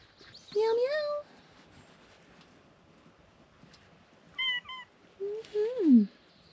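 A cat meows three times up close: a short mew, then a pause, then two quick cries ending in a longer, falling meow, with quiet background between.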